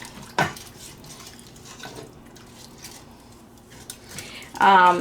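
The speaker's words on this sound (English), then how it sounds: "we're going to keep whisking and get all those bits off the bottom of the pan here" A whisk clinks and scrapes against a metal pan while making hamburger gravy, in scattered strikes, with soft liquid sounds and a louder clatter near the end.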